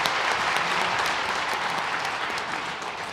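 Sustained applause from a church congregation during a Sunday worship service, a dense, steady wash of many hands clapping throughout, fairly loud and even with no voices standing out.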